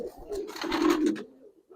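Pigeons coo in a small cage, giving a soft, close burst of low cooing that fades, then resumes briefly.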